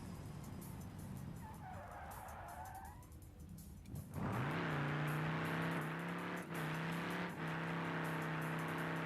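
Video game car doing burnouts: after a quiet stretch, a loud engine roars up and holds a steady high rev with tire squeal and skidding noise, briefly dipping twice before continuing.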